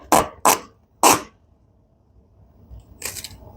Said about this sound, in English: that is the sound of duct tape right there